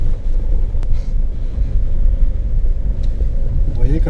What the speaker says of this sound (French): Et là je vais dans la poudreuse et on va faire des ronds.